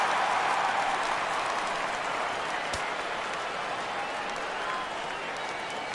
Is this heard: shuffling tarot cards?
no